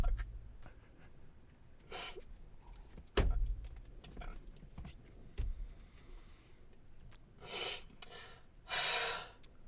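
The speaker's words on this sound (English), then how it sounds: "5 seconds of heavy breathing" Heavy breathing with several sharp gasps and snorty exhales, some loud bursts standing out against a quiet background.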